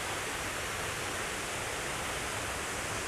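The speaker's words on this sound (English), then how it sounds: "We are down to the waterfall." A waterfall beside a fishing dock and river eddy roars as dense, unbroken broadband rushing, loud and steady, with no voices.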